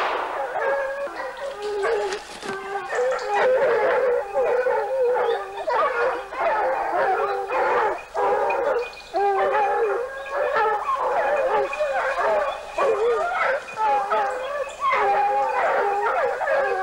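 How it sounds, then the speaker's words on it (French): Several hunting dogs bark and howl continuously in overlapping voices during a wild boar hunt, loud and close, with brief pauses between bursts. "Les chiens chassent très bien et poussent les sangliers vers les lignes de tir."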